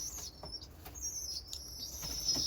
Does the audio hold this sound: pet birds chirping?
yes